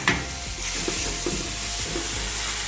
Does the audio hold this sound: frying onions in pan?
yes